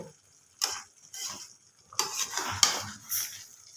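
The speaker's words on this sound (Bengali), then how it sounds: "এবার ভালো করে আমি এটাকে কষে নেব" Chicken masala being stirred in a pan with a splash of water, loud close scraping strokes of a spatula against metal in uneven bursts, with a soft sizzle between them and no talk.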